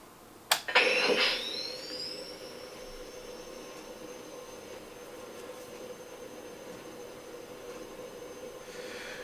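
A Hasbro Proton Pack toy powers on with a sharp click and a rising electronic whine that settles into a steady, moderately loud hum, which carries on alone for several seconds.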